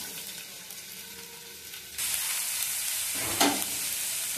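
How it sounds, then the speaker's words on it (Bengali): Onions fry in oil in a wok after the papad. A quiet background hiss suddenly jumps into a loud, steady sizzle about halfway through, with a brief spattering burst soon after. "এবারে দেবো পেঁয়াজ,"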